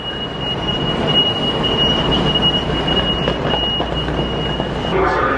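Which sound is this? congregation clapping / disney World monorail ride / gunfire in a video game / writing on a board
disney World monorail ride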